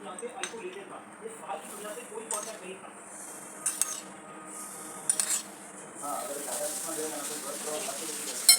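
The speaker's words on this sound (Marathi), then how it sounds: "त्याला चांगलं मिक्स करून घेऊया चमच्याच्या सहाय्याने त्याला चांगलं मिक्स करून घ्यायचं" A spoon stirs and scrapes hot ghee into semolina and flour in a metal pan, giving faint scraping and clinking with a soft sizzle, mostly under quiet speech.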